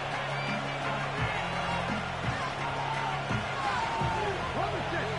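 A stadium crowd roars steadily in an EA Sports American football game late in the fourth quarter, a dense sustained cheer with thuds and whistle-like tones rising through it.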